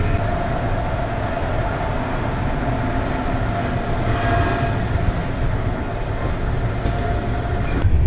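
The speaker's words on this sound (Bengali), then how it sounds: "সালেম জংশন থেকে ট্রেন ছেড়ে পরবর্তী স্টেশনের দিকে ট্রেন ছুটতে লাগলো" A double-decker train runs steadily from Salem Junction toward Bangalore with a constant rumble and rolling clatter heard from the upper deck inside the carriage, with a faint squeal near the end.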